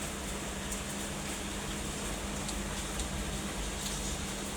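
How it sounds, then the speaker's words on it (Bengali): Rain falls steadily outside a veranda as a faint, even wash of patter, continuous and distant, with no voices. "এই যে শুরু হয়েছে বৃষ্টি"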